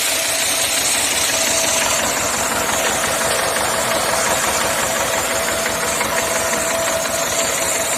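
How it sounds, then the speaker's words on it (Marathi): A tractor-driven sorghum cleaning machine runs steadily outdoors, a dense mechanical rumble and rattling whir with a fast engine-like knock throughout, loud and continuous with no talk. "असं ट्रॅक्टरला मशीन जोडलेलं आहे"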